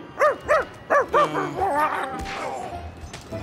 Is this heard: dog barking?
yes